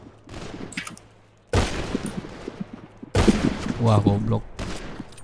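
Gunfire in a GTA roleplay game comes in several sharp, close bursts separated by short pauses, with excited voices talking between and over the shots.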